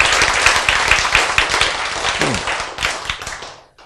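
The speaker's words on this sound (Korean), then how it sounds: "하니까 박수를 쳐줘요." Audience applause in a lecture hall, a dense burst of many hands clapping at close range that swells and then thins out toward the end, with a brief low vocal sound partway through.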